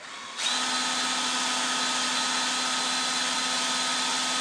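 A power drill running in reverse whirs steadily and loudly after a brief quiet start, holding one continuous motor whine throughout with no talking.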